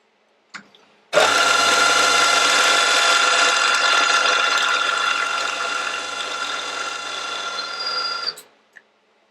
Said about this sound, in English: I just want to put a spot, centre drill spot,